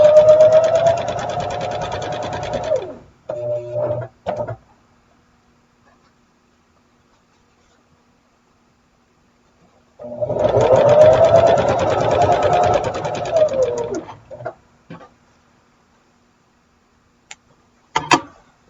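A sewing machine stitches along the edge of a quilt in two long, steady bursts of rapid mechanical running, each a few seconds long. Quiet pauses and small ticks and clicks fall between them.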